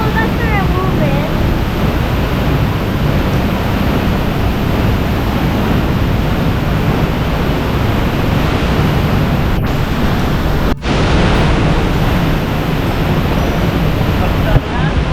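Steady, loud roar of Pagsanjan Falls heard from behind the waterfall, a dense wash of crashing water with wind buffeting the microphone, continuous throughout with a couple of brief knocks.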